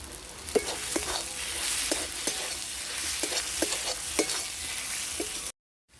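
Cauliflower pieces stirred in a pan of hot oil with potatoes for a fish curry, giving a steady sizzle broken by repeated scraping strokes of the spoon before the sound cuts off abruptly.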